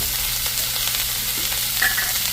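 Onions, bell peppers and garlic sautéing in a pot for oxtail stew: a steady, close sizzle and crackle of frying vegetables, fairly loud and continuous, with no voices over it.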